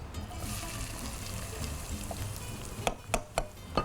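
Chopped onions fry in oil with a soft, steady sizzle, followed near the end by several sharp clinks and scrapes of a utensil against the pan.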